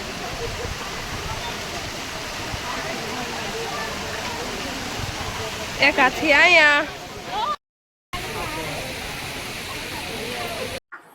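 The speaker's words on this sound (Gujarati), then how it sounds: "આ શું હાથીના મોઢામાંથી પાણી પડે છે મિત્રો" Water spills steadily from the mouth of an elephant statue fountain at a temple, a continuous splashing rush throughout, with a brief spoken phrase partway through and a short break near the end.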